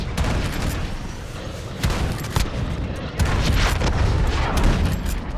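Gunfire from the MK2 Carbine in the video game Modern Warfare, a loud dense sequence of sharp shots and booms over continuous battle noise, with several heavier reports spaced through the stretch.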